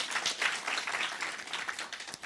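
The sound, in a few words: audience applause for Mohale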